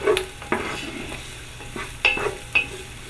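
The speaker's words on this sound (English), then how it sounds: "Sizzle around for a little bit." Hot oil sizzles steadily in a pan, with a few sharp clinks and scrapes of a utensil against the metal and quiet stirring noises.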